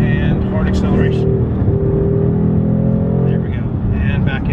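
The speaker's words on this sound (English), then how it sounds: "Brake and hard acceleration." A 2024 Ford Mustang GT lowered on Steeda springs accelerates hard, its engine note climbing in a loud, steady pull, with someone talking over it.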